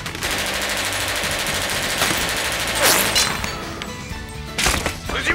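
Full-auto gunfire at a shooting range in an anime, a loud, rapid stream of rattling shots that continues without pause, with sharp bursts and crashes rising near the middle and end.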